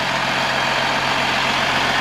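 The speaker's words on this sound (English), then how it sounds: "220 horsepower turbo diesel." A 2008 Freightliner Business Class M2 106 truck with a 220-horsepower Cummins ISB 6.7 turbo diesel idles with a loud, steady, dense rumble and hiss that stays even throughout, close by and with no voices.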